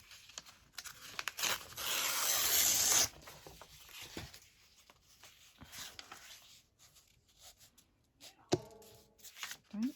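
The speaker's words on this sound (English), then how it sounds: "What about tearing some of that down?" Green recycled paper being torn by hand while making a journal, one long loud rip followed by a few shorter, quieter tears and rustles close to the listener.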